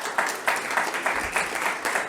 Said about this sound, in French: Oui, merci de vos applaudissements.